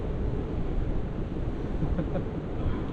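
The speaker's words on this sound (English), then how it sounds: "Because it's so windy" Strong, constant wind buffeting and roaring against the microphone, a dense low rumble with no talking.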